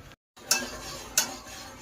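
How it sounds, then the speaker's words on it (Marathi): A pot of water boils vigorously for chicken biryani, giving a close bubbling rush that cuts out briefly, then returns with two sharp metallic clinks. "खळखळ असं उकळलं आहे।"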